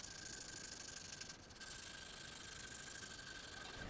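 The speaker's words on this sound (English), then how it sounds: "So I'll probably sand until I get all those out" An adjustable wrench is rubbed with 150 grit sandpaper in quick back-and-forth strokes, a steady close scratchy rasp with a brief pause partway through.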